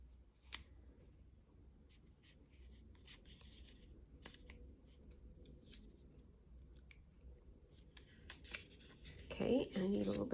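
Quiet snipping and rustling of scissors cutting paper, with soft handling noises throughout and a louder burst of crinkling near the end.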